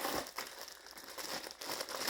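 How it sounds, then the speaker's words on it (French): White paper bowls being handled, giving soft crinkling and rustling in short bursts, fairly quiet and close, with no talking. "j'ai pris ce qu'ils appellent des bols en papier"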